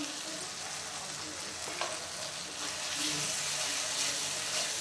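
Meat masala spices frying in oil in a pan, a steady close sizzle with occasional scraping stirs and no talking.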